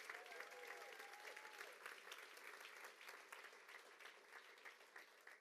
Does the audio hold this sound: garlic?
no